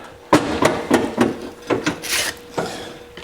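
Sheet metal being bent to a 7/8-inch-deep 90-degree flange for rust repair on a 1949 Chevrolet gasser, a series of sharp close metallic knocks and taps at uneven intervals.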